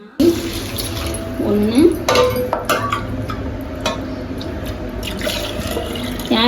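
Hot water left from boiling meat is poured by the cup into a cooking pot, splashing and gurgling in several bursts while someone speaks over it.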